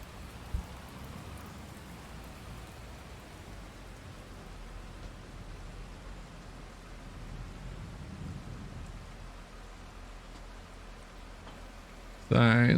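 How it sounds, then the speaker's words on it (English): Steady rain pours over a forest farm, a constant soft hiss with no breaks that holds at an even, moderate level throughout, ending in a sudden loud knock. "when's this darn rain gonna stop?"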